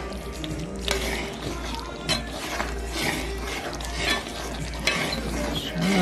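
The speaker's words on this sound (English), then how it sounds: "stir it around" Turned cornmeal is stirred in a pot over the fire, a continuous close scraping and squelching of the spoon with a few sharper knocks against the pot and a low steady rumble underneath.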